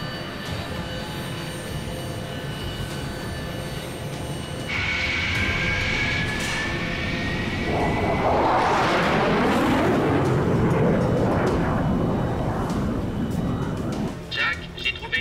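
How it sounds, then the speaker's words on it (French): Fighter jets launching in the movie Mega Shark vs Mecha Shark: a steady mechanical whine that swells partway through into a loud rushing roar as the jets take off, then fades with scattered clatter at the end. "Bien, allons lancer ces jets."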